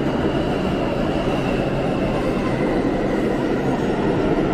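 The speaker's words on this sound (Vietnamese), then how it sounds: "có cái tàu bên kia nó đã đến cập bến" New York subway train pulling into a station, a loud steady rumble of wheels and motor with a high whine, continuous and close throughout.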